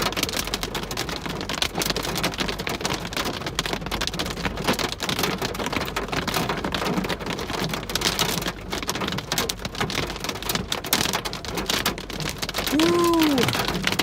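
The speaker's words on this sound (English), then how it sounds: "Some parts of Kansas City are getting some rain." Steady heavy rain pours during a Kansas City thunderstorm, a dense continuous hiss of drops on surfaces that stays loud throughout, with a brief tonal sweep near the end.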